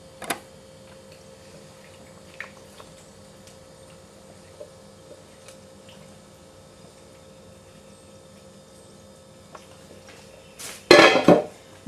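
A metal pan for a roast being handled, mostly quiet with a few faint taps, then a loud clattering scrape of the pan near the end.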